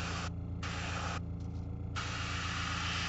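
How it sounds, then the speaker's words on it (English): An airbrush sprays paint from above onto a Fyreslayer miniature, giving a quiet steady hiss in bursts with brief gaps as the trigger is eased, over a low background hum. "I'm going to spray him."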